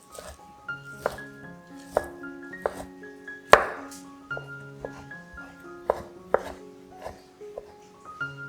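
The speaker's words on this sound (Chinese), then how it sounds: "豆包切丝放到碗里备用" Tofu skin being sliced into strips with a knife on a board, a steady run of close, crisp chopping taps with one harder strike in the middle, no talk.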